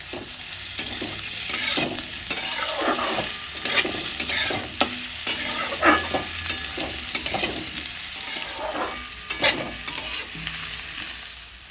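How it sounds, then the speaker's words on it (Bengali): Potatoes, onion and garlic sizzle steadily in a hot pan while a utensil stirs and scrapes repeatedly, producing intermittent clinks over the constant frying hiss. "পেঁয়াজ রসুন আর আলু হালকা ভাজা হয়ে গেছে"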